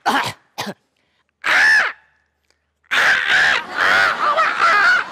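A man mimics a crow, letting out several harsh, throaty caws: two short clipped calls, a longer drawn-out one, then a run of loud cawing bursts close to the microphone on a comedy stage.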